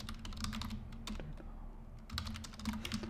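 Computer keyboard typing while a name is entered for a new data set, a quick run of light clicking keystrokes close by, bunched in bursts with short pauses and no talk.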